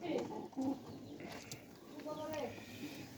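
Newly caught pigeons with clipped wings, kept at home, coo in short soft bursts close by, with voices talking over them.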